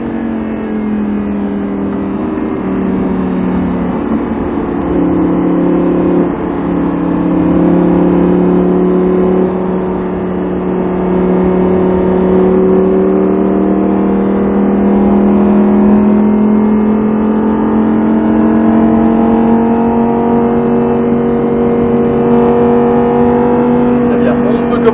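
Lamborghini Huracan at speed on the Salon de Provence circuit, its engine roaring loud and close with a long steady pitch that rises and falls through gear changes, and an instructor's voice occasionally heard over it.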